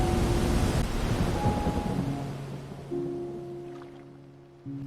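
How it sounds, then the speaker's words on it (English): A heavy storm at sea, with thunder rumbling under steady rain and water noise; a dense, loud wash that later settles into a lower sustained drone. "A great storm pulled him south."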